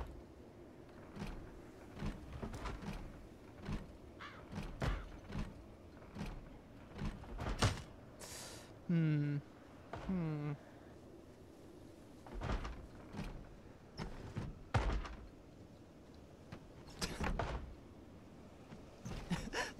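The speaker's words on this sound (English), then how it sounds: "Let's see who's knocking on the door." Repeated knocking and banging on a door in the video game Project Zomboid: irregular thumps and rattles spread over the stretch, with a harsh grinding burst in the middle, fairly faint and distant.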